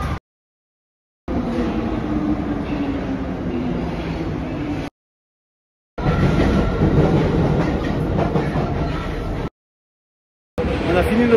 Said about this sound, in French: On a fini notre périple en métro.